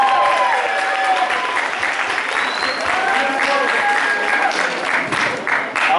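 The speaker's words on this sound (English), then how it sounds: "Let's give Rana another round of applause, my former student." Sustained audience applause fills a pageant hall, a dense steady wash of clapping with scattered cheers and whistles, loud and continuous throughout.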